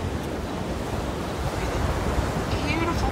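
Ocean surf washing onto a beach on a morning shore, a steady broadband roar of breaking waves with wind noise buffeting the microphone, continuous and fairly loud throughout.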